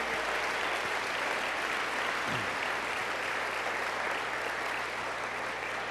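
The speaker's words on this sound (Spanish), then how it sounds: "Le podemos dar un aplauso al Señor Jesús." Church congregation applauding together during a Spanish-language sermon, a steady dense wash of clapping that holds at the same level from start to finish with no talk over it.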